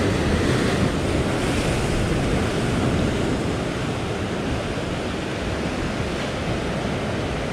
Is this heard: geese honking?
no